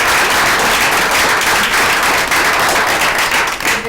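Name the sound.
audience applause at board meeting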